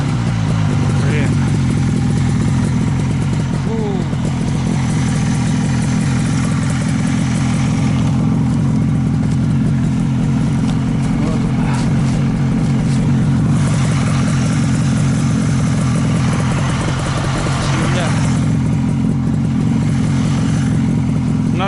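A Buran snowmobile engine labors through deep snow, droning loud and steady at low pitch with slight surges in revs throughout, and a voice is heard talking over it.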